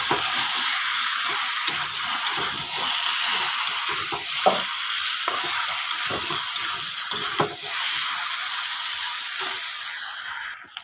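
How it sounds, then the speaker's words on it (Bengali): A ginger, garlic and onion paste fries in a hot pan with a loud continuous sizzle and hiss, broken by frequent scraping stirs of a utensil, close up and with no talking. "আরও অল্প সময় আমি ফ্রাই করে নেওয়ার পর আমি জল দিয়ে দেব।"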